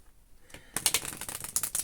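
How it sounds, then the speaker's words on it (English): An indie Unfolding Path tarot deck is shuffled close up. After a brief quiet start comes a rapid, crisp flutter of riffling cards. "Oh, it does shuffle nicely."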